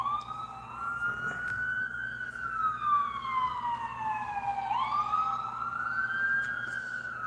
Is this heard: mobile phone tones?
no